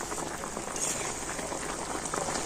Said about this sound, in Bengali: মিষ্টিগুলো আমি চিনি শিরার মধ্যে পাঁচ মিনিট কিন্তু খুব ভালো করে ফুটিয়ে নিয়েছি